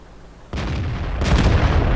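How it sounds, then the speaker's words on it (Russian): Two heavy tank cannon blasts in the video game World of Tanks, the first booming in sharply after a brief quiet, the second half a second later, each followed by a rumbling roar. "Еще один выстрел."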